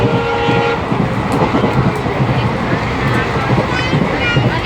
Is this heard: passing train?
yes